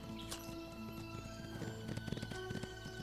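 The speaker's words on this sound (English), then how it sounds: "Run away, horsey! Run away!" A horse runs in the video game Windstorm, its quiet, quick hoofbeats pattering under a layer of background game music.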